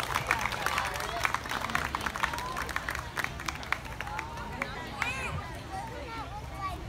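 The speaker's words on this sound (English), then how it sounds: "Let's have a round of applause for" Applause and cheering from a crowd at a dog show, a dense patter of claps mixed with babble, faint calls and dog-like yelps, running steadily through the whole stretch.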